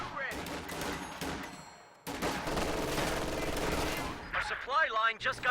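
Machine gun fire in Company of Heroes 2: sustained, loud rattling bursts with a short break, layered over battle noise. Other weapon sounds join near the end.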